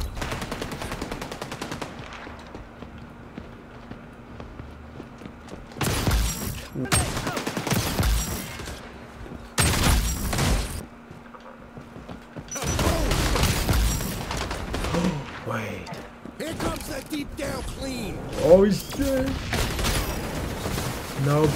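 Gunfire in the online shooter XDefiant, with bursts of automatic weapon fire in several rapid volleys spaced across the stretch, loud and close, over a steady low game hum.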